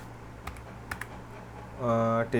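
Terminal commands are typed on a computer keyboard in a few quick, light keystrokes, heard close against a steady low hum, and a voice speaks briefly near the end.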